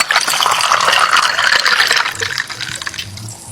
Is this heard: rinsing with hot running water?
yes